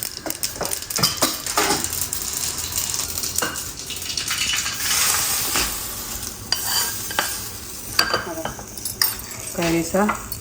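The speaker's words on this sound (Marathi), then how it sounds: "आपल्याला आता मोहरीची मोहरीचा तडका द्यायचा आहे" Mustard seeds and garlic cloves temper in hot oil for a spicy thecha, a busy crackling sizzle mixed with spoon stirring and clinks of metal cookware, with faint background voices.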